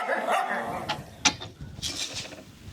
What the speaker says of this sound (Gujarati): ઓલું કૂતરું તો મારું દીકરું મારા સામું જ ભૂવે છે